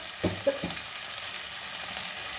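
Fish oil with salt and turmeric sizzles in a pan under a steady hiss, with a few clattering scrapes of a spoon stirring near the start, close and without voices.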